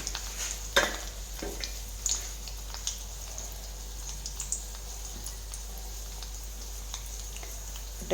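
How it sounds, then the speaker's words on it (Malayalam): Mustard seeds splutter in hot oil, giving faint, scattered pops and crackles at irregular intervals over a steady low hum. "കടുക് പൊട്ടാൻ തുടങ്ങി"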